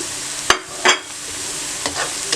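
Golden-brown onions and freshly added spices frying in a pan for chickpea pulao, with a steady close sizzle and a few sharp scraping stirs of the spoon, heard alone without any talking.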